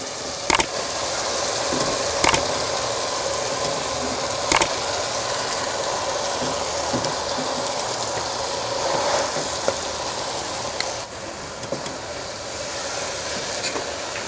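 Spinach leaves hit a pan of frying potato and tomato masala, bringing a steady broad sizzle with a few sharp clatters near the start, heard close up with no talking.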